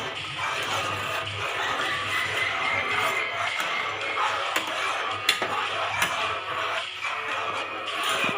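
A thick white pizza sauce is stirred in a pan, giving a steady, soft scraping of the utensil with occasional light clinks against the metal.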